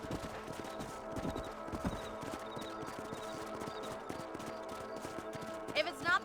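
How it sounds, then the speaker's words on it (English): Horses in the Western game Red Dead Redemption clop along in a steady, rhythmic hoofbeat over open ground, faint and distant in a quiet mix, with a brief whinny-like sound near the end. "Let's get back on the horses and see what else is going on."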